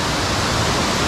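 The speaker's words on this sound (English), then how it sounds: "They're like kind of micro waterfalls, I would call them." Small cascading micro waterfalls along the Blue River in Raja Ampat, heard as a close, steady, dense rush of splashing water with no other sounds.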